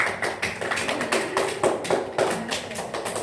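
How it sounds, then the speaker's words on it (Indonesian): A classroom of students gives applause for a classmate, with brief scattered clapping and tapping close by and a rhythmic burst that keeps going. "Beri aplaus"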